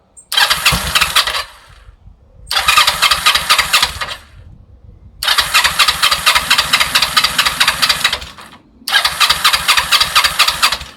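Kawasaki ER5 motorcycle engine, being fixed after a fault, revving hard in four loud close bursts with throttle blips, dropping to a lumpy idle between each burst.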